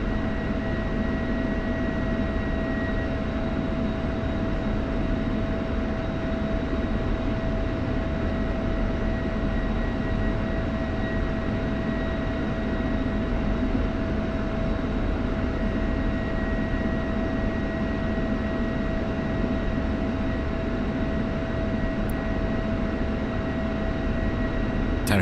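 An F-16 Viper jet taxis in the DCS flight simulator game, giving a steady engine whine and rumble with a constant tone that holds evenly throughout, with no speech.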